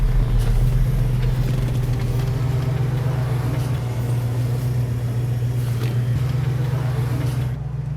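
A Dodge Coronet R/T engine drones steadily at close range on a rainy road, a strong low rumble holding through most of the stretch before easing off near the end.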